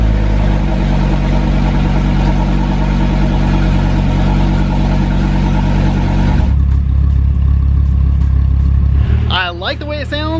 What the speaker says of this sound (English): let's go ahead and give it a cold start and hit the road